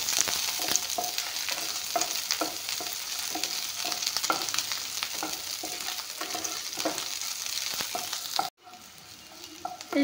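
Ginger, garlic, onion and chillies fry in a pan with a steady, close sizzle and repeated stirring scrapes, until the sound cuts off abruptly near the end.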